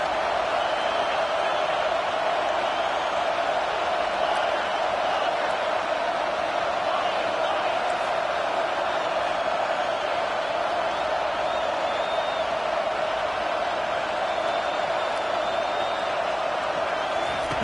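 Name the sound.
stadium crowd in College Football 25 video game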